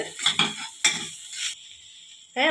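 A potato mixture is stirred in a pan, with a few close scraping and clinking strokes of a utensil against the metal, then a pause before a last scrape.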